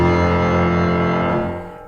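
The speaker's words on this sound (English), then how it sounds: "The theme that spells Clara sounds like this." Piano plays the Clara theme, a motif built from notes spelling the name, with sustained chords ringing together and then fading out over under two seconds, close and clear with no talking.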